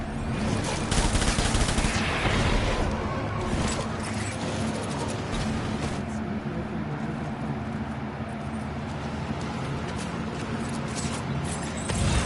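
Bursts of gunfire in the video game Death Stranding crackle in dense volleys at the start, settling into a loud sustained rumble of fighting for the rest.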